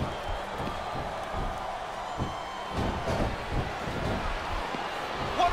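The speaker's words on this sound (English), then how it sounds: "Wow, listen to that chant, Taz." A video game arena crowd in SmackDown vs Raw 2007 keeps up a steady rhythmic chant, broad and continuous at moderate level, with faint cheering mixed through.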